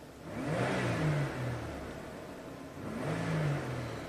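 A 1985 Oldsmobile engine, low on power and running with its mass airflow sensor removed, revs up twice in smooth, moderate blips with a settling idle between them, heard fairly quietly without talk.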